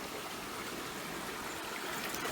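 River water runs past a kayak, a steady broadband rushing and trickling that stays close, even and unbroken for the whole moment, with no voices over it.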